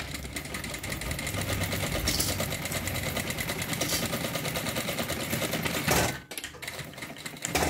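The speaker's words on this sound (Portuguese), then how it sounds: "Vou costurar agora assim, pra eu ver a costura," Domestic sewing machine stitching the final topstitch on a wide-opening toiletry bag, a steady continuous whir for about six seconds, then a brief stop and restart, close and prominent.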